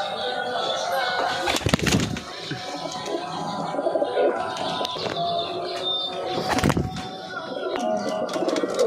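Pigeons kept at a home loft coo and call in a continuous, moderately close chorus, with a couple of sharp knocks or slams breaking through partway.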